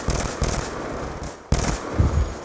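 Rapid automatic gunfire in Call of Duty WW2 multiplayer, two loud bursts of rattling shots separated by a brief gap.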